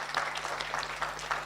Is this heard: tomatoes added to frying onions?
no